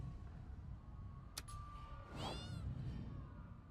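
A cat meows in a video game, a single drawn-out meow heard clearly over a low, steady background hum with a brief click just before it.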